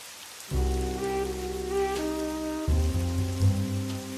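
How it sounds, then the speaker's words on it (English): Steady rain falls as a constant broadband hiss with a layer of tonal music running underneath it. No voices are heard. "The rain began to fall again, a steady rhythm that matched the pounding in my head."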